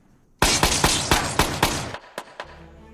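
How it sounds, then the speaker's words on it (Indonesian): A rapid burst of gunfire, several loud, close shots in quick succession, followed by a couple of separate trailing shots as the volley tapers off. "Mendengar suara tembakan yang menandakan nyawa Kirby telah direnggut"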